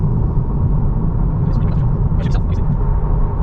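A 2023 Honda Civic drives on the road while picking up speed, giving a steady low road and engine rumble throughout, with a few faint voice-like sounds over it.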